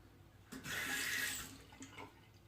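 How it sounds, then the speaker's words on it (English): Tap water running briefly over a shaving soap stick, a close splashing gush of about a second that fades into a few small drips and soft handling sounds. "So I'll wet it down, pull the stick against the grain."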